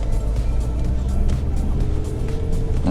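A Lada Vesta rolls over cobblestones, a loud continuous low rumble with a fine rapid patter of tyres on the stones, steady and close from inside the car.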